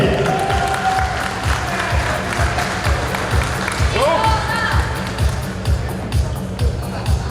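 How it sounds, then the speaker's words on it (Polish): Audience applause at a bodybuilding and fitness championship, Ms. Figure category, in Piotrków Trybunalski; steady clapping and crowd noise carry throughout, with a voice briefly rising over it midway. "No i proszę Państwa, można oklaskiwać oczywiście jak najbardziej."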